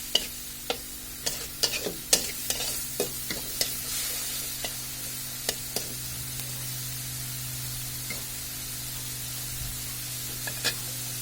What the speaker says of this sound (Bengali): মশলাটাকে এখন মাছের সাথে ভালোভাবে কষিয়ে নেব।